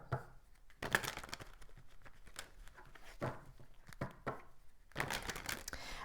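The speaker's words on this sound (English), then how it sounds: "I'll just give the cards a little bit of a shuffle." Tarot cards being shuffled, a few bursts of crisp riffling and slapping card sounds separated by quieter gaps, close and fairly soft.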